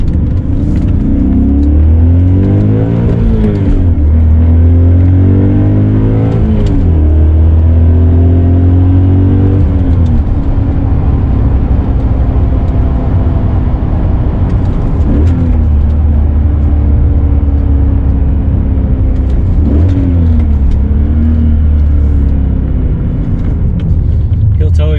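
A BMW E39 sedan accelerates hard, its engine note rising in repeated revving sweeps with gear changes, loud and close from inside the car, while a voice talks over it.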